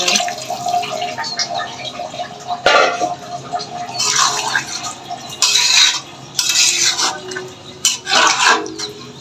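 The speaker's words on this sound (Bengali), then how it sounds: "এখন আমি একটু জল দিয়ে দিব, বেশ অনেকটাই লাগবে।" Water poured into a pan of cabbage and rice in several splashing bursts, with metal clatter and scraping in between, close and fairly loud.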